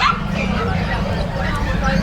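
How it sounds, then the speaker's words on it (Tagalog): An American Pitbull Terrier barks amid the crowd noise of a busy pet market, short yips and barks partly buried under steady chatter and background hubbub. "Ayan, Daddy Dance, bihira sa market ngayon yung American Pitbull Terrier."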